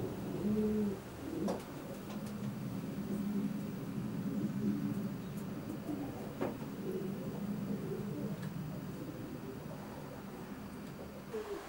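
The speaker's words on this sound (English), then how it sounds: "These are a few of Robbo's old birds." Racing pigeons in a loft coo softly and repeatedly, low throaty calls recurring close by over a steady background hum, with a few faint clicks and no speech.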